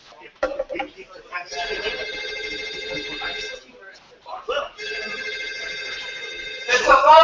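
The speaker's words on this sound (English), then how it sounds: "It's a phone call for you." Telephone ringing in repeated bursts, a steady electronic ring that stops and starts again, with some talk and noise around it.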